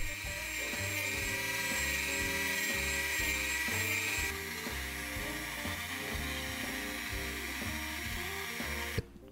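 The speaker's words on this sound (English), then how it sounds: "Then it was time to do some molding with my Dremel." Dremel rotary tool rounding off the edges of EVA foam, giving a steady high-pitched whine that whirs continuously up close for several seconds before cutting off.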